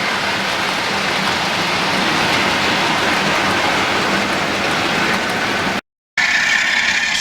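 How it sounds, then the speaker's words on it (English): Model trains run around a home layout, giving a loud, steady mechanical clatter and whirr of small wheels and motors that continues unbroken, then briefly cuts out and resumes. "So while these trains are going round"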